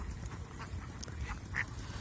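Native ducks raised for meat on a farm of about four thousand birds quack in scattered short calls over a constant low flock murmur, moderately distant and fairly quiet.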